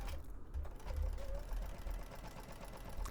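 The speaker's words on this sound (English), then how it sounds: "I sewed my label down, and then you just completely go around the perimeter" A sewing machine runs a slow, steady line of top stitching around the edge of a fabric coffee cozy made from scraps, a close mechanical whir with a low knocking pulse.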